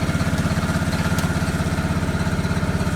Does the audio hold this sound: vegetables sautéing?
no